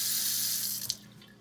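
A sink faucet runs with tap water for a chemistry lab solvent, a close, steady rushing hiss that eases off near the end with a small splash, and no talk.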